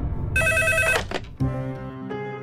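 A telephone rings with a bright electronic trill, followed by a second shorter ring, close and clear.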